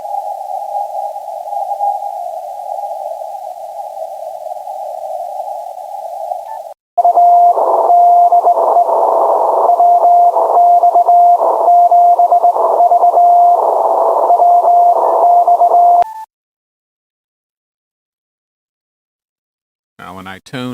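On 60 meters a ham radio transmitter tunes in AM mode at around 5 watts, giving a loud steady tone that switches to a louder pulsing, warbling tone for about nine seconds, then cuts to silence before a brief burst returns.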